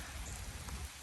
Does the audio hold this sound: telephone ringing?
no